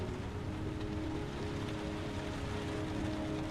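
Rain falls steadily in the video game Heavy Rain as a soft, continuous hiss of drops. It stays faint and even throughout, with no voices over it.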